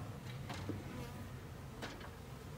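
Honey bees buzz around hive frames, a dense steady drone close by with a couple of brief swells as individual bees pass near, and no voices.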